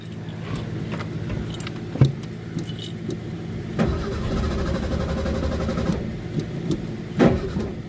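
A classic Ford car engine cranks and catches on a cold start, idling roughly and unevenly up close, with keys jangling and a couple of sharp knocks.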